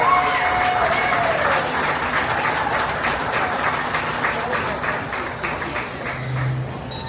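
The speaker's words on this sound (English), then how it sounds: "Please give her a huge round of applause for her project" Sustained applause from a crowd at a county fair beef show, honoring a young girl's project, steady clapping that fills the whole stretch and fades slightly near the end.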